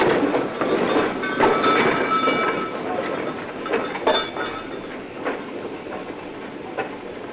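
A steam train on the last private industrial railway, filmed in the 1970s, rolls past with rhythmic wheel clatter, metallic clanks and occasional sharp squeals, strongest at first and then slowly fading.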